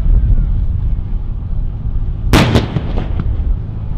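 A tall sailing ship's broadside cannon fires as one sudden loud boom followed by a quick second report, with the blasts fading into steady wind and low rumble.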